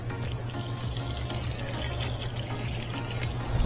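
A Kenmore 70 Series top-load washer fills through its water valve, a steady, close rushing hiss of water pouring into the tub with an even, continuous level.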